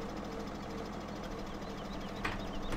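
Tractor engine from Farming Simulator 17 runs at a steady low idle-like drone throughout, with a brief brighter burst near the end, no voices over it.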